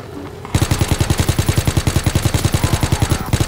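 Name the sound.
machine gun fire with unlimited bullets in a WW2 zombie video game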